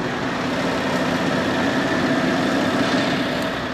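A farm tractor engine idles steadily during wheat stubble cultivation, a dense low rumble with a constant vibrating hum and no breaks or changes in pitch.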